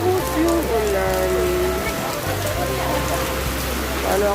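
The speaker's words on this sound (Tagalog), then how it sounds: "bigla na namang bumuhos yung ulan" Heavy rain pours steadily on a seaside promenade on a rainy morning, a dense close wash of sound with a low hum underneath and a person talking over it.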